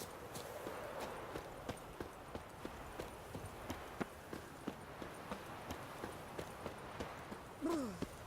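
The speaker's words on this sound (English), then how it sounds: "Look at that horse barrel ahead!" Rapid, steady clip-clop of hooves at a gallop in The Witcher 3: Wild Hunt, close and even, running throughout, with a horse's whinny near the end.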